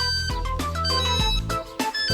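Phone ringtone in a police chase video game featuring a motorcyclist, police, a tractor and a truck: a loud melodic electronic tune of repeated bright tones over a steady backing, with no speech.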